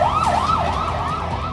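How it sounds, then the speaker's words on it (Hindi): A war siren in Israel wails loudly and continuously, its pitch rising and falling in smooth repeating sweeps with no other sound over it. "युद्ध का सायरन बजने लगा है।"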